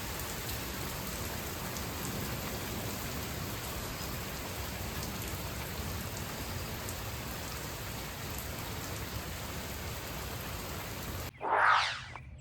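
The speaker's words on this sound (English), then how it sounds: "Oh, it's raining hard." Heavy rain hisses in a steady, even downpour throughout, with a brief louder thump near the end.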